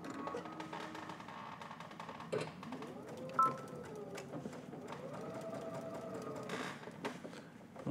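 A sewing machine stitches quilted fabric in quick, close mechanical bursts of whirring and rattling, with brief pauses between runs and faint background noise.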